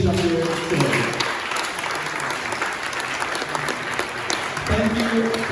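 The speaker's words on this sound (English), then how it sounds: "Can we please give a big round of applause for everyone who did show here today?" A crowd at a startup pitch event gives a steady, loud round of applause, with dense clapping throughout and brief voices audible at the start and end.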